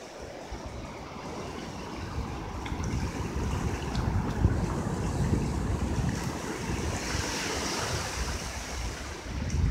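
Surf washing onto a beach on a morning walk, a continuous broad rush of waves with wind buffeting the microphone, steady and moderately loud throughout.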